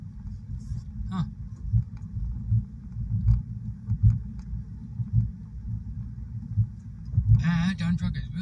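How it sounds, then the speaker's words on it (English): A dump truck drives along a road with a deep, uneven low engine rumble that swells and fades, a voice talking briefly near the end. "That dump truck is really moving."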